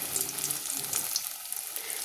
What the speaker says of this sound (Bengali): তো এবার ভাজা হচ্ছে